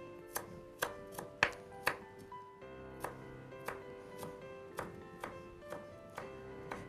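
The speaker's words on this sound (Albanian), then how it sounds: "nuk e kam prerë dhe shumë imët, se nuk është, thashe dhe njëherë, nuk është thika ime" A knife chops cabbage on a board for a cabbage salad, about a dozen sharp close taps at an uneven, fairly steady rhythm, with no talk.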